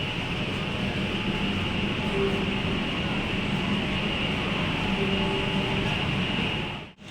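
An underwater metro train in Kolkata, running beneath the Hooghly river, produces a steady, loud rumbling drone with a sustained hum, continuous and close throughout.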